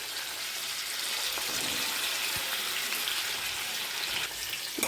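Vegetables for baingan bharta, including raw tamarind, green chilies and okra, fry in a pan with a steady, close crackling sizzle and a few soft knocks.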